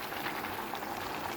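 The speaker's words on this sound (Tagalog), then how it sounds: "Ayan ay kumukulo." A pot of chop suey vegetables bubbling at a steady boil, a soft continuous simmering hiss with dense small pops, heard close and alone.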